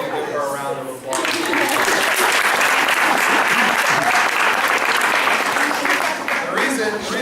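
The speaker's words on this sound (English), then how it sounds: "can you give her a round of applause?" A banquet audience at a high school soccer awards dinner breaks into loud, sustained applause, dense clapping filling the room after a brief spoken line at the start.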